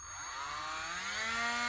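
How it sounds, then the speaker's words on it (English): Dremel rotary tool spinning up to drill a hole in a wooden clothespin, a quiet high whine that rises steadily in pitch as the motor gains speed. "Turn my Dremel on,"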